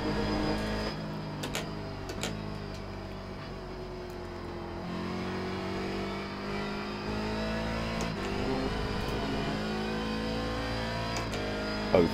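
A Corvette C7 DP race car in iRacing at Mosport drones steadily with engine pitch rising and falling through gear changes, a continuous mid-level roar without speech.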